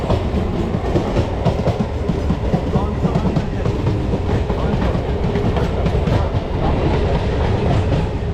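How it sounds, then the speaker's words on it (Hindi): A local train passes close by near Chennai Beach station, its loud steady rumble and rhythmic clickety-clack of wheels over rail joints running continuously throughout. "दोस्तों यहाँ की लोकल ट्रेन भी देख लो भाई आप।"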